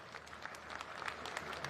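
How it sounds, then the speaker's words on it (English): An audience at a hospital commissioning ceremony in Abuja claps for the CEO, a short burst of faint, distant scattered applause. "Give him one round of applause"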